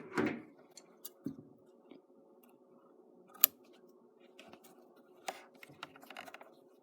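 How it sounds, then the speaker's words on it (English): Scissors trimming loose threads off a sewn fabric necktie, producing quiet scattered snips and small clicks at irregular intervals, close by with no talking. "Make sure you go back and you trim off your threads here."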